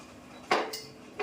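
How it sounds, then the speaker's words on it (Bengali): Large cardamom pods being crushed in a metal mortar and pestle: two sharp metallic clinks, close and clear, against a quiet room with no talking. "এবার 6খানা বড় এলাচ বন্ধু ভালো করে থেতো করে নেব হামনদিস্তে।"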